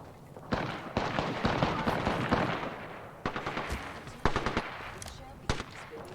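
Rapid bursts of automatic weapon fire in the Apex Legends video game, clusters of sharp cracks with pauses between them, and a voice speaking over the action.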